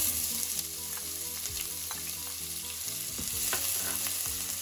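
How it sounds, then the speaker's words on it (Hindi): Chopped onions go into hot oil with black pepper, bay leaf and cloves for Indian chole bhature, giving a loud, continuous close sizzle and frying crackle with stirring scrapes throughout. "अब हम डालेंगे कटी हुई प्याज।"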